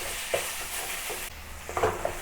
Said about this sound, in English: Break up the ground pork and fry it until it turns slightly brown.